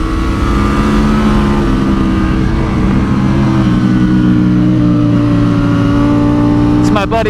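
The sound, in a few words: Triumph Street Triple 765 RS motorcycle ridden on track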